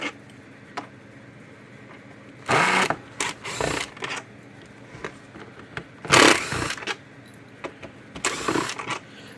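A Kencove EK13 electric fence energizer, opened up with its back screws removed, gives off several loud, sharp bursts of clicking separated by quieter gaps, close by with no voices.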